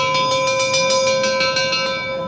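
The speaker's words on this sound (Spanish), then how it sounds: "Toques de campana que llaman a los hombres de trono." A procession bell strikes in a quick, even series of ringing tolls on Holy Thursday, summoning the throne bearers, each stroke's clear tone overlapping the last, with no talking.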